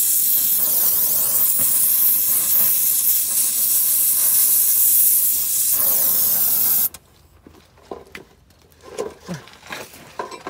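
A MAP gas torch roars with a loud, steady hiss while heating a frozen nut, then cuts off abruptly, leaving faint scattered clicks and small metallic sounds.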